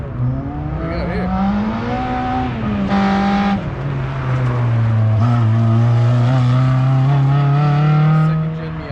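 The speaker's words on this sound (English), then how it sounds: "Second gen Miata, aka Baby Viper." A second-generation Mazda Miata set up for time attack with a large rear wing, at an autocross race day; its engine drones and revs steadily for about nine seconds, loud and close, with a brief shift in pitch midway.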